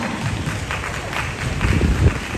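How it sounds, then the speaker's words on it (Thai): Audience applause at a press conference for a Snow Man pop-up store launch in Bangkok, a steady patter of many hands clapping in a room that builds slightly toward the end. "ปรบมือให้หน่อยได้ไหมฮะทุกคน"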